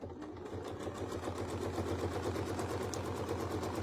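A sewing machine stitching a quilt block runs steadily and close, a continuous fast mechanical whir with an even rhythmic chatter throughout and no talking.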